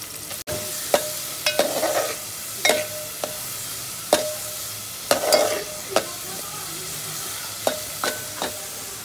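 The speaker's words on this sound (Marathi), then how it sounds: "सो आपण आता ह्याच्यात पुढे कांदा घालतोय परतायला." Chopped onion sizzles and crackles in a hot pan as it is stir-fried for safed vatanyachi usal, a steady loud fry broken by repeated sharp scrapes and stirring knocks up close.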